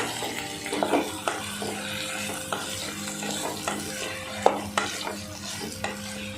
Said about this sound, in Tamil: வெண்டைக்காய் சேர்த்துட்டு அதையும் நல்லா சேர்த்து கிண்டி விட்டுடலாம்.